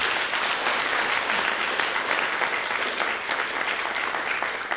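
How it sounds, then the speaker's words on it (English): Sustained applause fills an investor meet hall, a dense wash of many hands clapping steadily and loudly throughout with no break. "A big round of applause for them, please."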